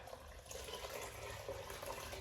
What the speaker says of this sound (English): I have 6 cups of water to what we already have in the pan